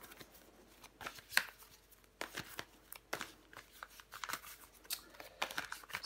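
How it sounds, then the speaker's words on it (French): Tarot cards shuffled by hand, a quick run of crisp, close riffles and flicks in uneven bursts, quiet overall with no talk. "Les cartes sont mélangées."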